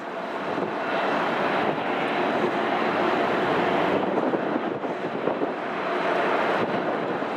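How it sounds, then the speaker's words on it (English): An Aer Lingus airliner in retro livery roars steadily at Manchester Airport, a loud broad engine rush with wind buffeting the microphone. "Aer Lingus Retro."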